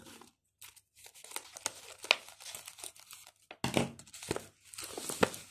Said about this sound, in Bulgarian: Отварям с моята ножица на Стич.